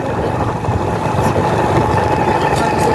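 A motorcycle engine runs steadily as the bike is ridden fast over a broken, rough road past a mango orchard in the evening, its mid-pitched drone constant and close throughout.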